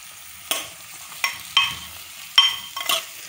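Close-up stirring of onions in a pan for rajma: a handful of separate scraping strokes at an uneven pace, with a faint sizzle underneath and no one talking.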